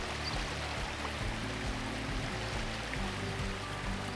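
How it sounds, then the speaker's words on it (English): Runoff from a creek off a trail in the Idaho wilderness mountains flows with a steady, fairly faint rushing gurgle, continuous and unbroken, with no voices. "That noise you hear is a creek, or at least runoff."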